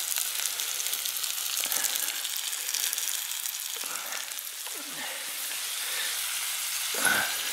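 Mushrooms fry in a pan over a camp stove outdoors, making a loud, continuous hiss of sizzling oil up close with occasional stirring scrapes and no voices.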